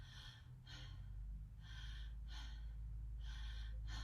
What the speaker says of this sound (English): I'll speed it up a little so that it's almost like when you see a puppy lying there and he's breathing